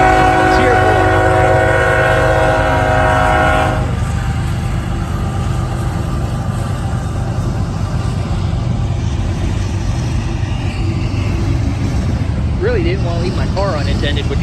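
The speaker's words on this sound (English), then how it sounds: "Here is a CSX Autorack train coming out of Willard and heading down the old B&O" CSX autorack freight train leaving Willard on the old B&O line at Greenwich, Ohio, sounding a loud sustained horn blast before rolling past with steady rumbling rail noise, people talking nearby.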